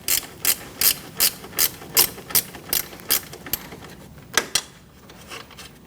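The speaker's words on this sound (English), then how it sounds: "I'm going to use a 10mm ratchet wrench to take out this bolt" A 10mm ratchet wrench clicks in quick regular bursts while removing a bolt from the cooling fan assembly of a 2008-2014 Mercedes-Benz C300, about a dozen close, crisp ratcheting strokes with short pauses between them.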